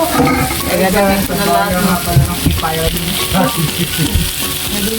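Menudo ingredients sizzle loudly in a pan with only a little cooking oil, a dense continuous crackle with clattering stirring throughout, close up and without talk.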